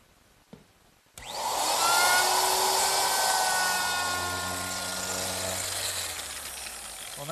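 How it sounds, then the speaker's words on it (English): A router rounding over wooden tenon ends: a loud, steady power tool whine kicks in after a click and runs continuously, close by, with a high machine drone and shifting pitch as it cuts. "I mustn't forget to round over the ends of the tenons"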